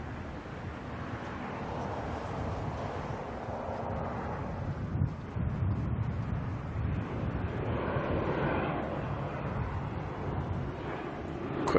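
ATR turboprop heading to Tauranga, a faint distant engine drone that swells slightly and then fades, mixed with gusting wind buffeting the microphone.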